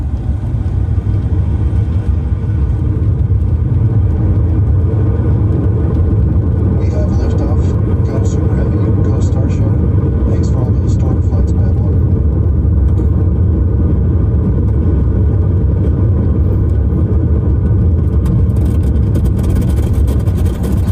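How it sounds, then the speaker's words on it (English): Starship rocket liftoff played through a Cybertruck sound system at the Tesla Diner, a loud continuous deep rumbling roar that stays steady throughout, with voices faintly underneath. "Starship liftoff live at the Tesla Diner."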